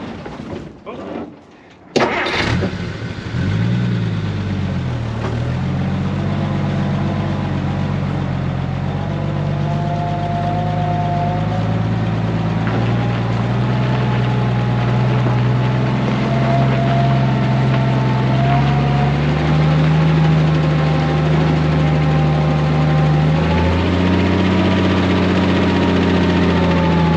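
An old Willys jeep engine runs steadily while pulling another vehicle out, a low continuous drone with shifting pitch as revs change, close and loud for most of the clip after a brief start.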